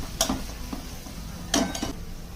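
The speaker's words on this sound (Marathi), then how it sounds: "आता हे सगळे मसाले या कांदा टोमॅटो मध्ये छान परतून घ्यायचे" Spices sauté with onion and tomato in a pan over medium heat, a low, even sizzle broken by two close bursts of spatula scraping and clicks against the pan.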